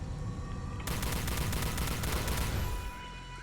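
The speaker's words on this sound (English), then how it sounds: "They didn't notice me shooting at them." Sustained automatic weapon fire from the player in Star Trek: Elite Force II, a steady dense burst starting abruptly and running for about two seconds before cutting off, loud and close over low game ambience.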